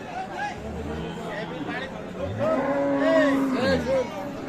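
Friesian cows low at the Aftabganj cattle market in Dinajpur, with several drawn-out moos rising over a steady murmur of crowd chatter and nearby talk.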